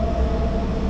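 A Holi special train runs from Kolkata toward Darjeeling, a loud, steady low rumble of rolling wheels and carriage noise filling a brief moment with no talk.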